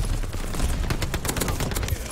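Rapid submachine-gun fire in the shooter Call of Duty: Vanguard, a dense stream of close, loud bursts with sharp repeated cracks over roughly two seconds, no talk.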